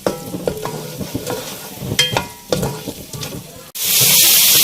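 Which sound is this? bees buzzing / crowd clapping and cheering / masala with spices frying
masala with spices frying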